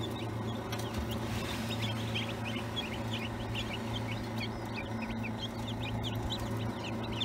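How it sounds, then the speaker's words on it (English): Newly hatched chicks cheep in an incubator, their short, high peeps repeating irregularly and fairly faint over a steady low mechanical hum, with no talking. "So I'm gonna check in on the chicks."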